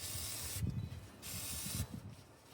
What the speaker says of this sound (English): Put a little WD-40 on there.